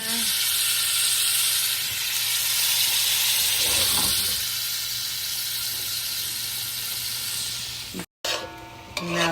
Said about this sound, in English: Now that I have this cooking itself, I'm getting nice and crisp, getting some color